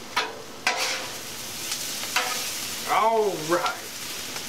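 Bowfin fish cooking on a Blackstone flattop griddle outdoors, a steady moderate sizzle with scraping clicks from a spatula, under brief spoken words from a man.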